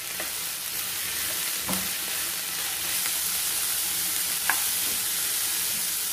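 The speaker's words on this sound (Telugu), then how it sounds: "ఒక సెకండ్ ఇలా ఫ్రై చేసి" Black-eyed peas frying in a tempering, giving a constant bright sizzle with a couple of faint clinks of stirring.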